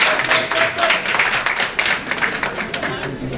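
An audience at a ceremony in Senegal applauds, producing a continuous patter of clapping that runs throughout, while faint voices or murmurs sit underneath.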